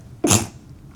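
A single sharp sneeze-like burst, loud and close, lasting about a quarter second and then fading into quiet room tone.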